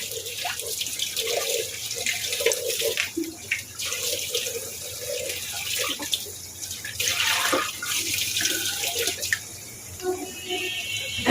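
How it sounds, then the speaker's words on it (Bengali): Duck meat rinsed under a running tap in a home kitchen, a steady close gush of water with splashing and sloshing as the pieces are handled, alone with no talk. "মাংসগুলোকে সাত আটবার না ভালো করে ধুয়ে এখন এই যে ফাইনালি ধুয়ে নিলাম"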